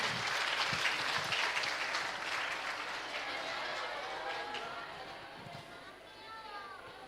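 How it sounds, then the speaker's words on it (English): Audience applause fills a lecture hall at an academic general-studies talk, a dense, steady clatter of many hands that is loud at first and then eases slightly, with no voices standing out. "Round of applause for Mrs. Olga and Mrs. Margarita."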